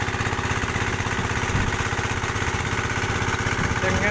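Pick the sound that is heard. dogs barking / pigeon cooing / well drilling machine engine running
well drilling machine engine running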